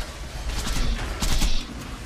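Bursts of rapid Borderlands 2 gunfire crackle twice over a rumbling game background, loud and close.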